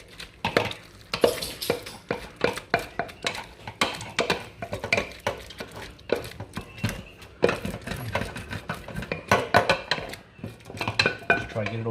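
A metal spoon repeatedly clinks and scrapes against a bowl while stirring homemade pasta dog food, producing steady, close, irregular taps and scrapes throughout with no talking.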